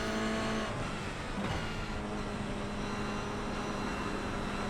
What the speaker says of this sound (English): I can feel and hear the car sliding through there